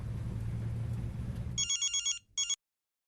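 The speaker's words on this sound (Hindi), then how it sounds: "तानी का फोन आ रहा है पागल।" A phone rings with an incoming call, sounding as a quick series of electronic trill bursts after a low rumbling background fades out, then a short final burst before silence.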